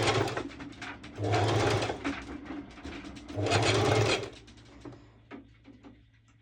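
A sewing machine runs a slow basting stitch through mesh and lycra swimsuit fabric in two short bursts separated by pauses, with light fabric handling and clicks between runs.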